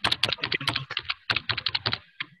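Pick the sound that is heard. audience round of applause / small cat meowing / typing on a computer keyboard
typing on a computer keyboard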